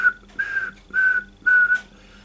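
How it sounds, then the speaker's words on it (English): A railway guard in a brake van blows short, level whistle pips, four bursts in a steady rhythm, loud and close with nothing else behind them. "it might have been four pips on the whistle."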